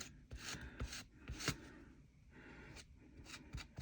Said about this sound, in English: I'm just going to go over each of the tiles and scrape off some of the extra